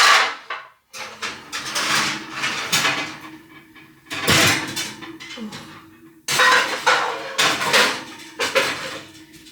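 Metal pans clatter and knock as they are handled in a kitchen: loud, close bursts of clanking in irregular clusters separated by brief pauses, with no talking.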